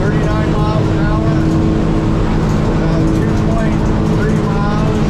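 Stabicraft 1850 Fisher aluminium boat held at wide open throttle around 39 mph, a loud steady outboard drone with slapping water and wind noise throughout.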